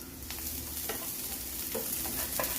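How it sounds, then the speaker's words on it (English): Onions hit hot oil in a pan over a medium flame, giving a soft, steady sizzle with a few brief stirring scrapes, fairly quiet and close. "Put in your onions."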